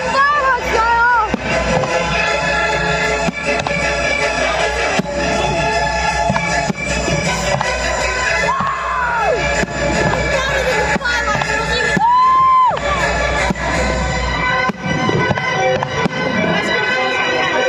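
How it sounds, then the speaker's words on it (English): Fireworks bang and crackle continuously at a Bonfire Night display in Newbury, with a loud crowd cheering and children shouting close by throughout, voices whooping over the blasts. "So much love, fireworks going off."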